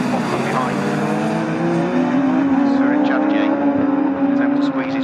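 Race cars roar at speed around Snetterton circuit during a CSCC Magnificent Sevens series race, engines droning steadily and loud throughout with a rising pitch, under continuous commentary.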